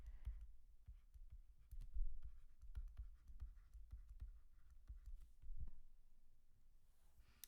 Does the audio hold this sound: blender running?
no